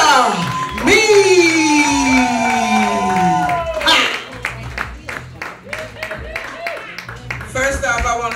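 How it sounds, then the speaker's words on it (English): At a comedy show, a crowd claps and cheers for a comedian. A loud, drawn-out vocal call leads into a run of quick, close claps and scattered whoops. "Start clapping, and give it up for Georgia"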